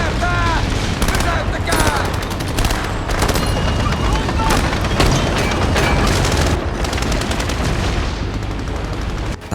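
Intense battle sound from a war film featuring a Lahti L39 anti-tank rifle, with continuous loud gunfire, explosive booms and rumbling mixed with shouting voices throughout.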